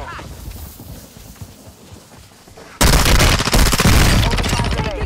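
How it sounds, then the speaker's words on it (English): Gunfire in the Call of Duty Warzone video game erupts suddenly midway as loud, rapid repeated shots, following a quieter stretch of footsteps and background game sounds. "Oh, someone's shooting me."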